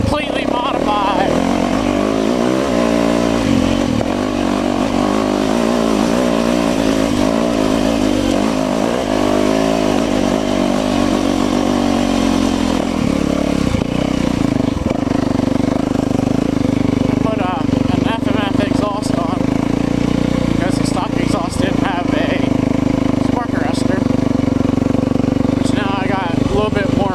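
A modified enduro motorcycle with an aftermarket exhaust pipe and remapped ECU runs loud and near, its engine droning and revving steadily throughout while someone talks over it.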